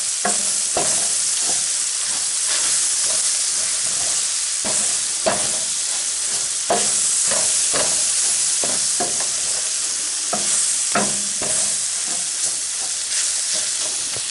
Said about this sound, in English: So I've got this mixing up in here, flour with the oil.